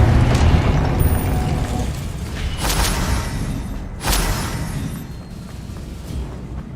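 Blasting-spell explosions in Hogwarts Legacy, a couple of sharp booming bursts with whooshing tails over a rumbling background of combat, fairly loud with gaps between blasts.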